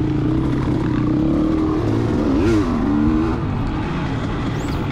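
Motocross dirt bikes racing at Washougal MX Park in an amateur 40+ class, a loud, close engine droning and rising and falling in pitch as the rider works through traffic, with other bikes around.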